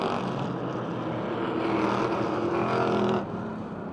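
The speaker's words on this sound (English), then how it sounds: "Jason Dieter in car 7 fighting for top 5 positions" Race cars racing on the oval at Motordrome Speedway, a continuous loud engine roar from a pack of cars that holds steady and then eases slightly near the end.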